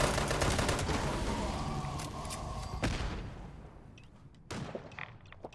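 Explosions and gunfire from the video game Fallout 76 come as a dense, loud volley of booms and shots that thins out. A couple more sharp blasts follow near the end.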